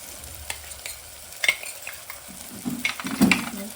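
A spoon scrapes and stirs a sambar masala mixture of chilli, garlic, red chilli powder, coriander-cumin powder and turmeric in a pan, with soft sizzling under irregular clinks and scrapes that grow busier toward the end.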